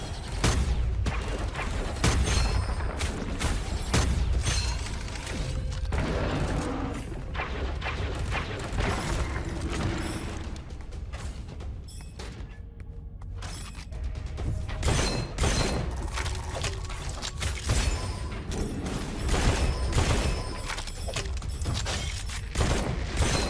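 Dense, continuous gunfire in the first-person shooter roguelite Gunfire Reborn, with shotguns, assault rifles and sniper rifles firing in loud rapid bursts alongside booms and explosions throughout, without speech.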